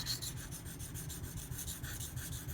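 A BRK Northstar knife blade is drawn across a sharpening stone in quick repeated rasping strokes, close and fairly quiet, with no voices.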